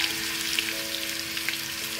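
Ginger garlic paste frying in a pan with browned onions for chicken yakhni pulao, a steady close sizzle with soft crackle and no voices.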